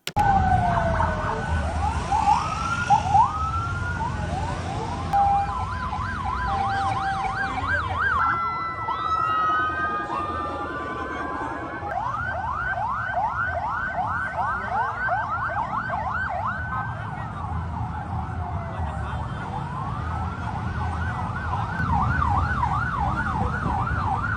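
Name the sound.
ambulance sirens during evacuation of bus crash victims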